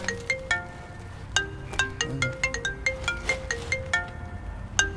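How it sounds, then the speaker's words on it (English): Phone ringtone chiming in a repeating melodic pattern of bright electronic tones, steady and fairly loud, playing alone without talk throughout. "while you get that phone call"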